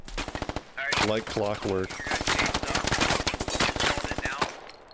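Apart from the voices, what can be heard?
gunfire in the video game Squad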